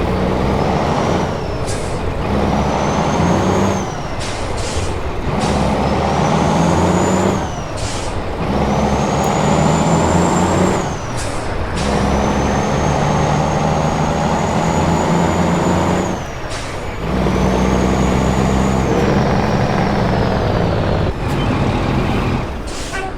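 A Freightliner Classic truck engine in American Truck Simulator rumbles steadily, broken by several sharp hissing air-brake releases at intervals, loud and close with no talking.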